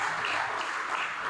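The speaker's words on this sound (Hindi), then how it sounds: "ये वाली जो ताली है" Audience applause at a Hindi comedy poetry gathering, a full, continuous burst of clapping from a large crowd, loud and steady with slight swells, with no talk over it.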